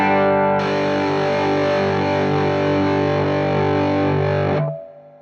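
A sustained, heavily distorted electric guitar chord through an EarthQuaker Devices Sunn Life octave distortion pedal with the clean boost cranked rings out loudly for several seconds, thick buzzing tone, then cuts off abruptly.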